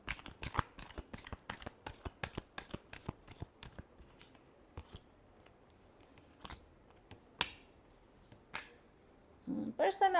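Tarot cards being shuffled: a rapid run of crisp riffling flicks, then slower scattered taps and slaps of the deck, close and fairly quiet, with a voice briefly at the end.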